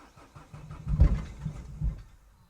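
A Volkswagen Golf engine runs roughly with uneven low rumbling pulses, surging louder around the middle, close by with no voices.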